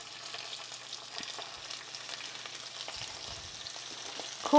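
Fresh corn fries in oil while being stirred, a soft steady sizzle with faint scraping of the stirring, quiet and close, with a sudden louder sound at the very end.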